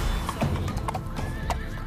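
A horse whinnies in a long call while hooves clip-clop over steady background noise, moderately loud and continuous, with no talk.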